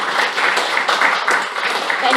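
A round of applause welcoming the Toastmaster of the day at a joint Toastmasters club meeting, a dense steady clapping from a crowd that sustains throughout.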